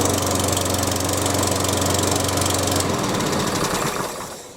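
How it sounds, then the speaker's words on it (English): A pull-started HYM430SPE petrol lawn mower engine runs loud and steady with a rattling drone, then cuts out and fades near the end. "and as you saw, start the lawnmower"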